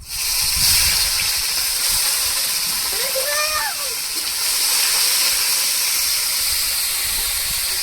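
Onion paste frying in a pan for a Bengali doi katla (carp in yogurt) dish, a steady close sizzle and hiss throughout, with a brief voiced sound partway through.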